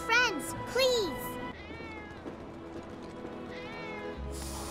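Cats meowing in the Final Fantasy VII Remake video game, two clear, loud meows close together at the start, then fainter meow-like calls under a busy background of game music and ambient sound.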